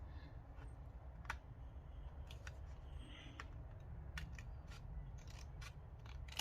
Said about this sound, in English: So I cut it on the line there.